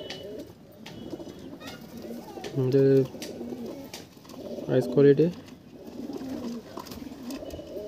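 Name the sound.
Madras pigeons cooing in a loft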